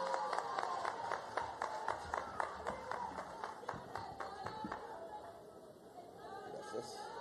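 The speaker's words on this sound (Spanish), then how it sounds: "Fuerte aplauso, por favor." An audience at an outdoor public ceremony marking the start of work on a stadium claps steadily, the applause tapering off as murmured chatter carries on in the crowd.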